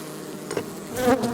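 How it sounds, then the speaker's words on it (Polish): Bees forage on flowering buckwheat around midday, their buzzing a soft, steady hum close by that swells slightly toward the end. "Także dlatego te pszczoły dają tutaj popracować."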